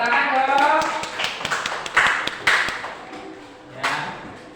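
A grade 4 classroom in Indonesia claps for a student in a scattered, uneven handful of claps and taps, with children's and a teacher's voices talking around them.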